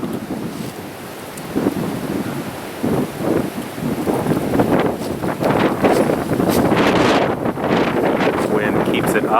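Gusty wind buffets the microphone outdoors on a disc golf course, rising and roaring louder in the second half, with faint voices underneath.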